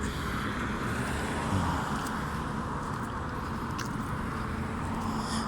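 Steady traffic circulating around a roundabout, a continuous broadband wash of car and vehicle noise at moderate distance with no clear individual pass-bys and no talking.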